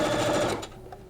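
A sewing machine back-stitches a quilt top in a loud, fast whirring burst of about half a second before it stops abruptly.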